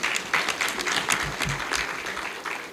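An audience at a charity foundation launch gives a brief round of applause, a few seconds of fairly close, moderately loud clapping with some murmuring voices underneath.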